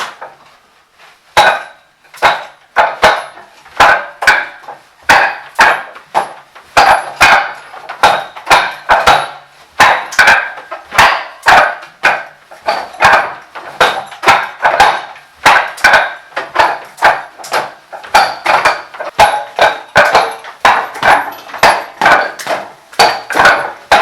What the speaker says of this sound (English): You can see the movement around the dummy and the punches combined.